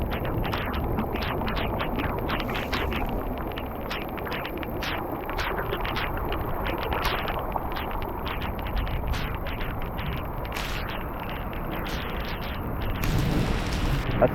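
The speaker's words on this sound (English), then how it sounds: "I did not expect it to rain this heavily." Heavy rain pours steadily onto a campsite beneath an awning, a dense, loud, continuous hiss with scattered sharper drips and spatters, unbroken by talk.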